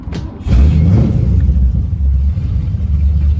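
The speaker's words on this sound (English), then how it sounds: "I'll be quiet for a while, that way you guys can hear the actual exhaust and engine note." A 1998 Dax AC Cobra replica's engine turns over and catches, then settles into a steady low rumbling idle, loud and close, with no talking.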